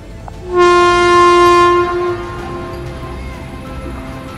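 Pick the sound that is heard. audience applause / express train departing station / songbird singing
express train departing station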